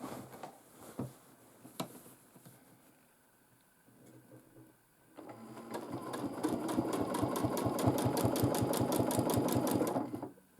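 A domestic sewing machine quilts a large quilt: after a few quiet clicks and handling noises, the motor starts and runs a steady rapid stitching rhythm, close and fairly loud, until it stops at the end.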